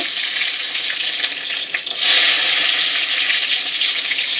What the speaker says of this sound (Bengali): রসুনটা একটু লাল লাল হওয়া পর্যন্ত ভাজবো।